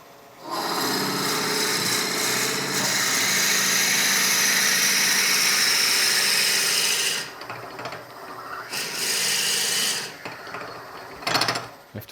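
A drill hollows wood on a woodturning project, at moderate speed, with a loud, steady grinding whir lasting several seconds, then stops and restarts in shorter bursts.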